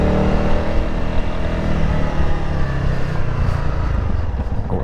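A 2025 Honda CRF300 Rally motorcycle on a test ride makes a steady, loud engine drone with rough low rumble and wind noise throughout, and no talk is heard.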